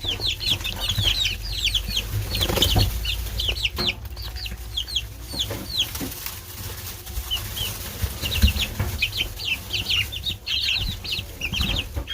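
Duck wings flap in repeated bursts among clucking and chirping birds at a chicken brooder, a busy flock nearby with steady background noise.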